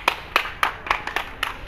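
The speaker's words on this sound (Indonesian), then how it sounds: "Tepuk tangan dulu" A small group in a cooperative-learning gymnastics class claps in unison, about seven sharp, evenly spaced claps in a steady rhythm, fairly close.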